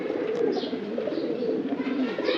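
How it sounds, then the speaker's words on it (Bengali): An army pigeon kept by a Bangladeshi hobbyist coos close by in low, throaty rolling notes that run almost continuously, with faint chirps from other birds above and no speech. "এই একটা আমার আর্মি কবুতর"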